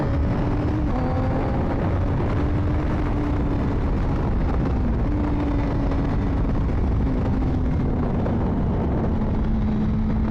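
Honda CBR600RR from 2024 revving in low gear during cornering practice, a steady engine drone with shifting pitch and heavy wind rumble throughout, recorded close from the rider's position.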